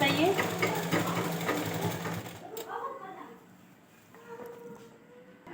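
A sewing machine stitches the border of a ghaghra in a fast, loud whirring burst for a couple of seconds, then stops while someone talks.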